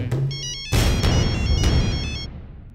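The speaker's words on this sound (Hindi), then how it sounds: "गुरुजी का फोन है।" A telephone ringtone in a Hindi-dubbed South Indian action film scene plays a repeating electronic melody of bright beeps, partly masked by a burst of louder broadband noise before it cuts off.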